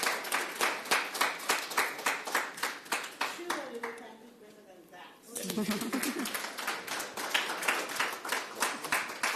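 A symposium audience in Harare claims steady, rhythmic clapping in near unison for session participants. The clapping pauses briefly while a voice speaks, then resumes just as strongly.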